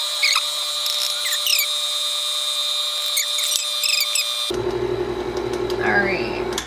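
An electric mixer beats chocolate chip cookie dough, its motor whirring steadily in the latter part after a stretch of high, tonal chirping sounds.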